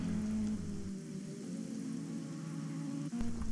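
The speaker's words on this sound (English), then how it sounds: "that rain's coming down very, very heavy" Heavy rain in the Project CARS racing game, a dense steady hiss of downpour with a low engine drone beneath it, continuous throughout with no voices.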